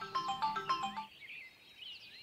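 A melodic phone ringtone plays while a call is placed to a captain, with repeated tonal chime notes for about a second, then a fainter warbling electronic tone continuing alone.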